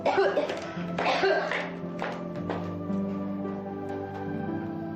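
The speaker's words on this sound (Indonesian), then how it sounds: "belakangan ini batuk Mama tambah parah" A woman with a worsening cough coughs several times in quick, raspy bursts, close by, followed by a quieter stretch with faint background hum.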